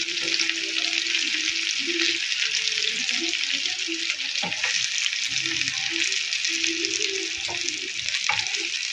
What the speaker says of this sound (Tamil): தோசைக்கல்ல அப்படியே மொள்ள திருப்பி திருப்பி விடணும் நம்ம வேகத்துக்கு.